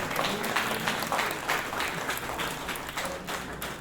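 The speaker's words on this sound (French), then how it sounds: "Un grand applaudissement." A crowd at the Miss Franco Mauricienne beauty pageant applauds with dense, steady clapping throughout, loud and sustained.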